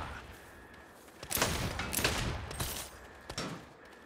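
Bursts of rapid gunfire in the Saints Row video game, several sharp volleys cracking close over about three seconds, with a brief lull between shots and no clear talk.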